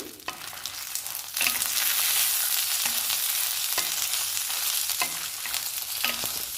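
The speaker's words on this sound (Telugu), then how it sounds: "చింతపండు ఎల్లిపాయి ఇవి కూడా అన్నీ వేయించుకోవాలి" Tamarind and garlic fry in a pan for a dried red chilli coconut chutney, giving a steady close sizzle with intermittent scrapes and stirring knocks, and no voices.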